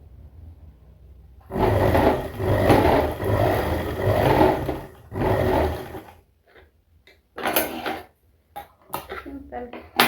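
Sewing machine stitching pant fabric, several loud bursts of rapid mechanical whirring separated by pauses, with shorter stop-start runs toward the end.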